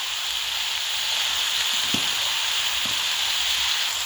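Chicken fries in a pan with ground coriander and cumin as it is stirred, giving a steady close bright sizzle broken by a couple of soft stirring scrapes.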